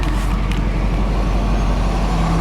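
Road traffic moving through a stoplight in a rural farming community, a loud steady engine rumble from nearby vehicles with a rising whine near the end, no speech.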